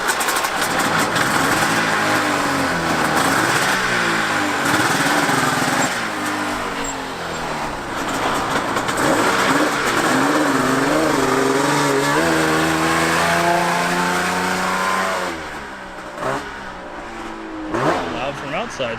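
A Mazda RX-7 fitted with a snowmobile engine and no clutch, idling and revving loudly and continuously up close, with the pitch rising and falling through repeated revs; voices talk over it.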